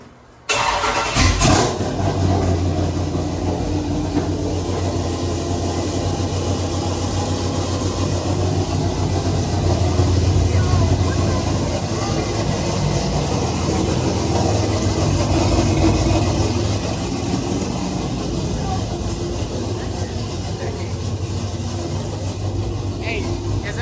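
A one-of-one OJ2Y Dodge Charger Scat Pack wide body fires up from a cold start, its engine catching with a burst and then holding a loud, steady, rumbling idle throughout, with people talking over it.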